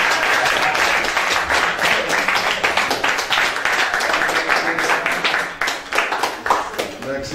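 Loud, sustained audience applause and clapping at a foundation event where children give testimonies, a dense wash of many hands that fills the room, thins a little toward the end, with voices mixed in.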